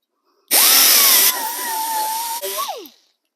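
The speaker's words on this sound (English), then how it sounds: "So now I want to drill those out" A power drill bores out spot welds on a steel cab corner of a 1973-1987 GM squarebody Chevy C10 / GMC Sierra truck: one close, loud burst of high whining motor that bites into the metal, steadies, then spins down.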